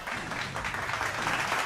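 Applause and clapping play as an in-game effect in the Clash Royale video game after a tower is taken, a short dense burst of moderate loudness with no talking.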